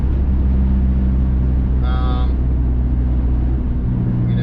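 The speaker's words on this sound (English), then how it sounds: "the exhaust drones, not bad. The exhaust isn't loud." A Dodge SRT-4 exhausts with a steady low drone from inside the cabin during a test drive, constant and moderately loud, with a brief higher tone midway.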